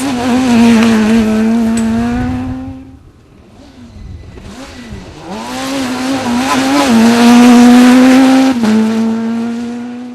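A Fiat rally car is tested at speed on dirt roads across the Athi Plains in Kenya. Its engine climbs and drops through loud, close revs with gear changes, easing off briefly before surging again.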